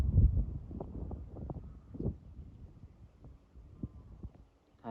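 A large-bladed 1 hp wind turbine spinning in gusty wind, giving a low throbbing hum with irregular pulsing swells, fairly faint and alone.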